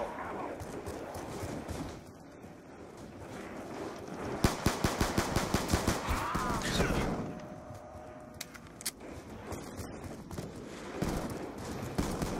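Rapid automatic gunfire from Black Ops 2 Zombies, a burst of sharp repeated shots mid-clip over a busy game soundscape of other sounds.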